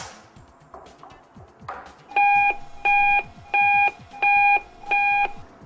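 Speaker beeper test tone sent through a monitor loudspeaker over an NL4 connector: after a few soft clicks and handling sounds, five loud, evenly spaced electronic beeps, each about half a second long.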